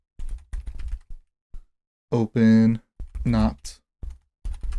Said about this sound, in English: I was typing in the label